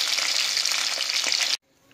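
Foli fish sizzling vigorously in hot oil in a kadai, a bright crackling fry that cuts off abruptly near the end.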